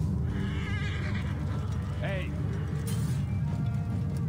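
A horse neighs in the video game Assassin's Creed Origins with a wavering whinny over loud low rumbling noise and a voice talking.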